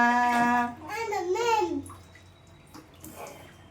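A child's bath at home, with water sounds under a child's babbling and vocalising, and an adult voice also present.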